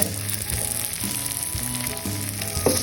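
Ingredients fry in a little oil in a pan while suki noodles are cooked, making a continuous close sizzle with faint repeating tonal notes behind it.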